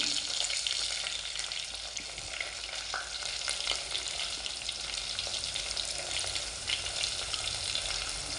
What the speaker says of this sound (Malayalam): ചൂടായി ഇതിനകത്ത് നമ്മൾ കൊച്ചുള്ളി ഇഞ്ചി വെളുത്തുള്ളി